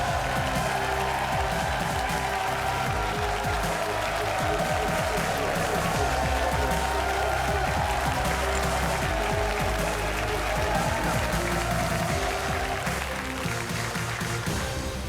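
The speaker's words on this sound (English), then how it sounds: "give a huge round of applause for this guy as he walks off dual-wielding GamesMaster Golden Joysticks" A studio audience on the games show GamesMaster keeps up a long, steady round of applause and cheering. Low music plays underneath, and the applause holds at an even level throughout.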